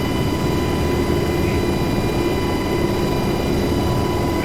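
UH-60 Black Hawk helicopter flying over the Syria map in the DCS World simulator: a loud, steady engine and rotor drone holds constant throughout, with no talk over it.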